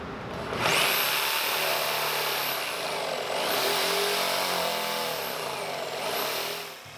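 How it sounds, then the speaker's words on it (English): A jigsaw whines and cuts through pine wood close by, its pitch rising and dipping as it works back and forth around tight curves. "Then I'll drill some holes and use a jigsaw to cut it out."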